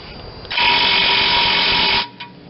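A power socket tool whirs in one loud, steady burst of about a second and a half. It is driving a bolt on a Vermeer BC625a brush chipper with a Kohler Command Pro 25 engine, with a brief tap just after.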